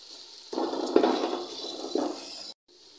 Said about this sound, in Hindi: मसाला भून चुका है